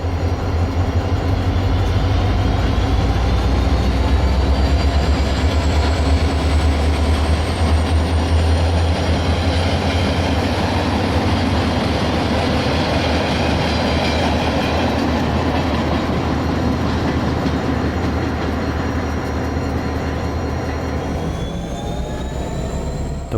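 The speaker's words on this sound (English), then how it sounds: "An eastbound led by an SD45U meets a westbound in the siding at Christie." Eastbound freight train led by an SD45U locomotive meets a westbound in the siding, heavy diesel rumble and rolling wheel noise droning steadily and loud throughout, with faint wheel squeals.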